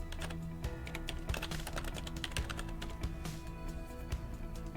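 Steady typing on a computer keyboard, close and continuous, with rapid key clicks and a few heavier taps on what sounds like the space bar, no voices.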